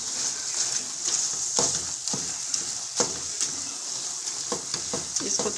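Gajar ka halwa made from grated carrots sizzles and fries in a pan while being stirred, with a steady bright hiss broken by repeated scraping strokes of a spoon.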